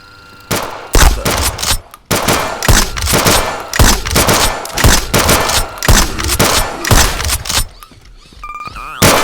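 Shotgun blasts in the zombie shooter Zompiercer, a string of heavy, closely spaced booming shots with short gaps, loud and near, ending in a ringing mechanical tone.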